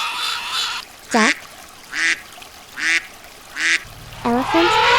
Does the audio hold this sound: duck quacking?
yes